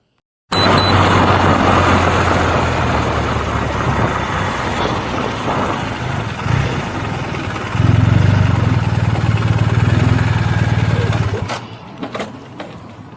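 A police motorcycle engine idles as a loud, steady rumble, close by and continuous for about eleven seconds before it drops away.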